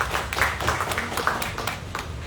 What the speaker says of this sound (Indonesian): Tepuk tangan untuk Pak Setiobudi